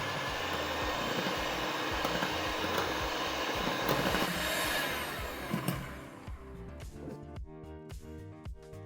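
An electric ice cream maker churns ginger ice cream with a loud, steady motor whir that cuts off after about six seconds, leaving quieter clicks and handling noises.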